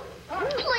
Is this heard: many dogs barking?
yes